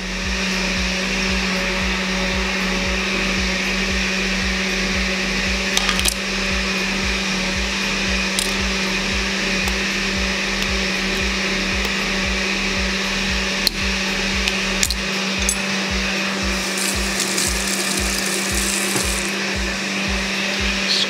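Blender blending cucumber, a loud steady motor whine with a rhythmic low chopping pulse throughout, changing pitch slightly near the end as the load shifts.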